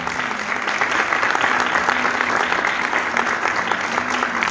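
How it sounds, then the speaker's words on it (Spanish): An audience applauds throughout a municipal ceremony handing out land plots in Cutral Có, a dense, steady wash of many hands clapping at moderate distance with no break. "Cintia Alegría recibe el aplauso de todos ustedes"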